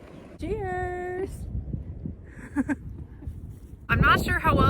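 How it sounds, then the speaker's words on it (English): Strong wind gusts buffet the microphone on a mountain top along the Appalachian Trail, a low rumbling roar running throughout, with brief voiced sounds and a louder burst near the end. "the wind is gusting like crazy up here"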